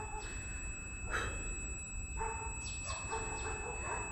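Several dogs bark in short yelping bursts near the end, over a steady low hum and faint background chirping, fairly distant and moderately loud.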